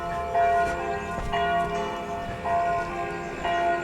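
Church bells ringing at night, with repeated clear strikes at a moderate distance and a sustained, humming bell tone between them. No voices are heard.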